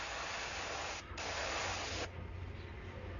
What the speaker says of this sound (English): And spraying just the bottom.